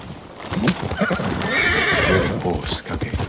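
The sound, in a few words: horse neighing and galloping, from video game Ghost of Tsushima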